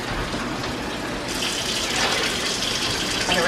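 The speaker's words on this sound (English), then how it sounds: "So let me add my 4 cups of water right now." Several cups of water pour and gush into a pot that already holds frozen tomato liquid, set up for cooking rice; a steady, close splashing flow fills the whole stretch with no talking.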